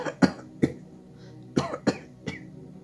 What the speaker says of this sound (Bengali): মাধব মিথ্যে কথা তেমন ভালো করে সাজিয়ে বলতে পারে না, তাই সে হঠাৎ কাশতে শুরু করে দিল।